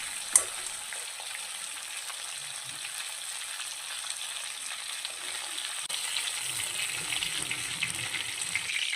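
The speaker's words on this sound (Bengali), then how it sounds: "মাছের মাথাগুলো উল্টে পাল্টে লাল লাল করে ভাজতে হবে।" Fish heads fry in hot oil, giving a constant hissing sizzle up close, with a brief clink at the start and the crackle growing slightly fuller later on.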